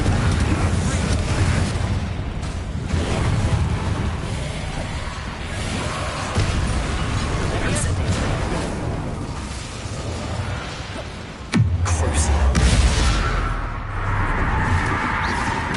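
Bombarda spell blasts cast in combat in Hogwarts Legacy, a run of loud booming bursts and whooshes over dense game noise, with a sharp heavy impact near the end.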